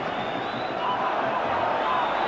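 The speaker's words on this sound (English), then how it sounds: "this huge crowd again getting right behind the Rangers team." A huge football stadium crowd roars steadily in support of Rangers during a 1992-93 Champions League match against Marseille, a broad, sustained wash of cheering noise with a commentator talking over it.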